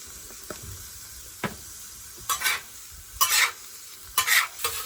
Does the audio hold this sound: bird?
no